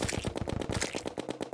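Rapid automatic fire from an upgraded Minishark gun in Terraria, a fast, steady stream of sharp, evenly spaced shots that stays loud and close throughout, with no talking.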